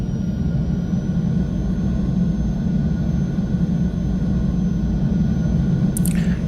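F-16 jet engine in X-Plane 12 rumbles steady and loud during a flyover approach, a continuous deep roar with no variation, ending in a brief high click.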